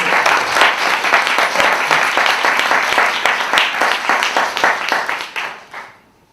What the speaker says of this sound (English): Please give a warm applause to our artists and